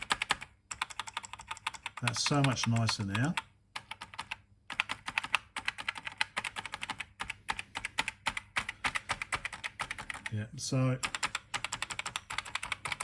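Rapid clicking keystrokes on a freshly cleaned and lubricated Didaktik M computer keyboard, a steady close stream of presses with a person talking briefly over them.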